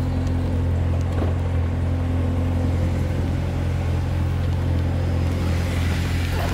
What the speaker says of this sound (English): We use the remote start to get the car started before we get in it